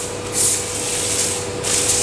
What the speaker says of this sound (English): spray it with spray canola oil, and this will stop it from sticking to the foil itself